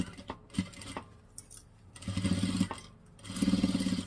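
A sewing machine stitches a seam on a fabric box in two short, quiet runs with a steady whirring rattle. Faint handling clicks fall between the runs.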